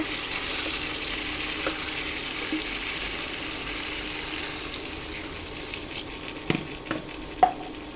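Mutton bhuna sizzles steadily in a pan as water is poured in, the close, continuous frying hiss broken near the end by a few sharp clinks and stirring knocks.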